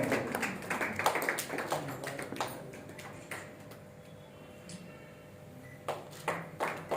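An audience at a spiritual group's welcome ceremony claps, with a burst of sharp claps at first that thins into scattered, fainter claps before a few louder ones return near the end.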